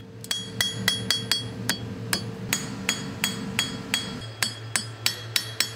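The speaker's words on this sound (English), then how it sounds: "you keep the hammer bouncing on the anvil" Hammer striking hot silver on an anvil while hand forging a spoon, a series of sharp ringing metallic blows in an uneven rhythm, close and clear over a low steady hum.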